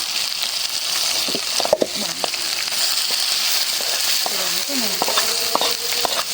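Leafy greens frying in a pan of hot oil tempered with nigella seeds, a continuous sizzle with light crackles and a few sharp stirring knocks against the pan.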